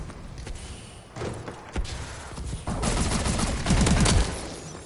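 Shotgun blasts in a first-person shooter video game, heavy booming shots that cluster into a rapid volley toward the end, loud and close with no talking.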